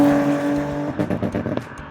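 Lexus IS200 straight-six engine and exhaust, a steady drone that breaks into choppy revving pulses in the second half, moderately loud with no talking.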